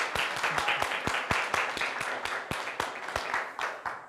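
Audience clapping at a public speaking session, a small group's distinct, fairly close claps in a brisk uneven rhythm over several seconds, with no talk over it.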